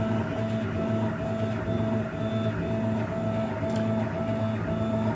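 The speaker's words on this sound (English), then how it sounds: "this is printing at 100 millimeters per second without the TL smoothers installed" A 3D printer runs a test cube at 100 mm/s without TL smoothers installed, its stepper motors giving a steady, tonal whine and hum, close and continuous with no talk.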